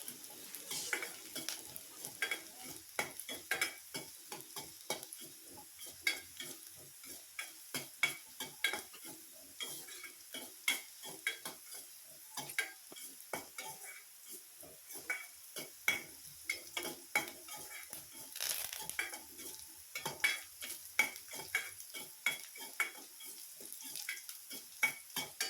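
Thoothuvalai leaves fry in plenty of oil, a steady soft sizzle broken by frequent light scrapes and clinks of a spoon stirring in the pan, continuous and close.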